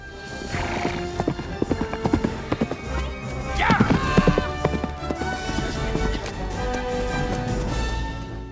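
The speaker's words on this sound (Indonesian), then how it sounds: "Leo datang menyusul Kate sambil menunggang kuda" A horse gallops in a pursuit scene, its hooves clip-clopping in quick, loud beats, with a whinny partway through.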